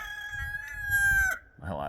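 A rooster crows once, a loud drawn-out call with a strained, wavering tone and a rising then falling pitch, followed by a brief throaty clucking tail.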